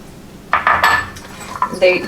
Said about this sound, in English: the last thing we're going to chop are some delicious walnuts